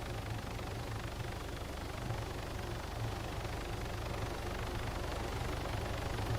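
A helicopter in the survival game DayZ drones steadily at a distance, a low constant rotor and engine hum with no change in level and no talk.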